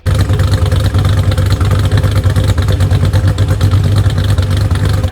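Loud, close idle of a HEMI engine in a Mopar fitted with a Stage 1 camshaft, a low rumbling lope with an uneven chop that stays constant from start to finish.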